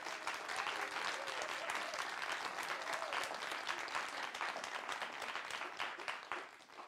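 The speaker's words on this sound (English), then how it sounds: "Give yourself a round of applause." An in-person seminar audience at an insect-decline talk breaks into continuous, even applause, a dense wash of many hands clapping at moderate distance with no gaps throughout.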